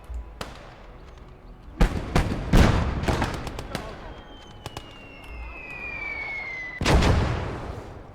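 Mortar fire in the war game Motherland, several heavy blasts and sharp impacts scattered unevenly through the stretch, some close and loud, with a falling whistle-like tone between bursts and no talk.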